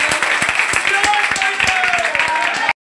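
Applause for a newly elected committee being welcomed with flowers, a steady patter of many hands clapping at close range for a few seconds before cutting off abruptly, with voices mixed in.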